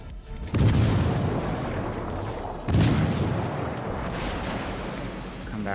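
Battleship guns in World of Warships Legends fire high-explosive shells: two loud booming salvos a couple of seconds apart, each leaving a long rumbling tail, with a faint voice in the background.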